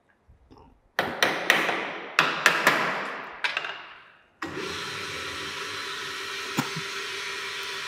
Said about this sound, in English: Now machine has started.